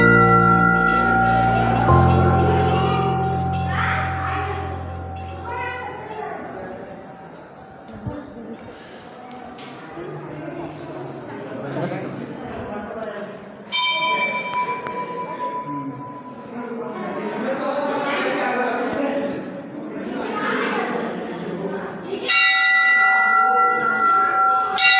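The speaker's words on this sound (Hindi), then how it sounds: "घंटे से बजाएंगे" A metal temple bell at the Parasnath water temple rings loudly at the start and again twice later, each strike leaving a ringing tone, while people talk throughout.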